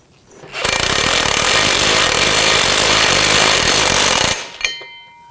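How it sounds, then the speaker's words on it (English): Bolts on the driveshaft coupler of a 2000-2006 BMW X5 being tightened with a power tool, a loud, harsh, continuous mechanical roar lasting about four seconds before cutting off abruptly. "Now we're going to tighten these down."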